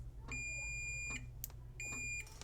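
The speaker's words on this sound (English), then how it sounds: "One thing I don't like about this tester is it doesn't immediately beep." An XLR cable tester gives two clear electronic beeps, each about a second long, separated by a short pause with a faint click between them, heard close up with a low background hum.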